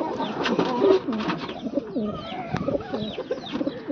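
Aluminium-type pigeons, a breeding pair with young, coo close by in a steady run of throaty, rolling calls, with some overlapping coos and no talk.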